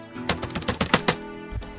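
Keyboard typing in the horror video game Unholy Flesh, a quick burst of about eight crisp clacking keystrokes in irregular rhythm, close and clear, with a soft thud at the end.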